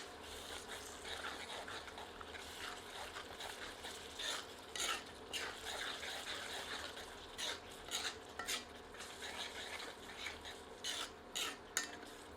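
A spatula scrapes and stirs ground masala with salt as it roasts in a pan, a soft sizzle underneath with irregular metallic clinks and scrapes growing more frequent toward the end.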